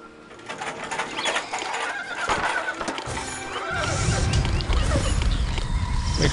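Horses neighing and whinnying at a horse ranch in the video game Master of Atlantis, several calls with hoof clip-clops among game ambience and bird chirps, and a low rumble swelling in the second half.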